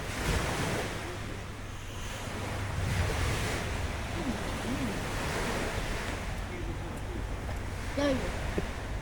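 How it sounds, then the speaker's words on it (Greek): Sea waves wash continuously onto a beach at Kavala, a broad steady roar with wind buffeting the microphone and faint voices in the background. "Ωραία θάλασσα και παραλία."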